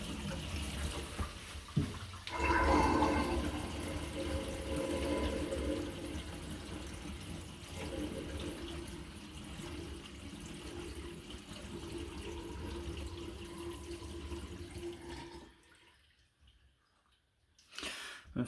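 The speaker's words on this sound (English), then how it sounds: "I'm going to go ahead and dump the volume of water" Water rushes and gurgles steadily down the drain of a Kohler Bryant drop-in sink for about fifteen seconds, then tapers off into a few faint trickles and drips.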